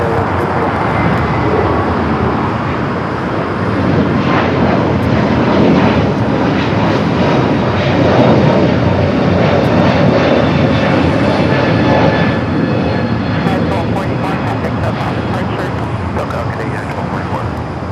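An airliner roars down the runway taking off at LAX, a loud, steady broadband engine rumble lasting throughout, with faint radio chatter in the background.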